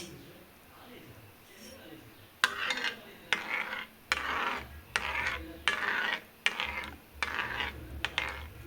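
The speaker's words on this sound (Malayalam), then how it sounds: "നമുക്ക് ബീറ്റ്റൂട്ടിൻ്റെ ജ്യൂസ് ഇതിലേക്ക് വെച്ചെടുക്കാം നന്നായിട്ട് ഇളക്കിക്കൊണ്ടേയിരിക്കാം" Beetroot juice is stirred into hot oil in a pan, giving a run of loud, rhythmic scraping strokes of a utensil against the pan with a faint sizzle underneath, the strokes coming in regular bursts after a quieter opening.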